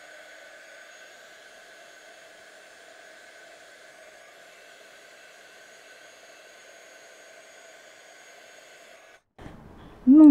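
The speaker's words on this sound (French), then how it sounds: "Et donc on va chauffer avec le heat gun pour faire apparaître" A heat gun blows hot air over a wood-burning kit piece, a steady, moderately loud whir and airy hiss holding constant for about nine seconds before cutting off, followed by a brief clatter.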